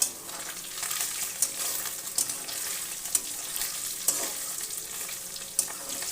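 Small mourala fish cooking to a medium fry in oil with a constant close hissing sizzle, broken by regular light taps and clinks from stirring every second or so.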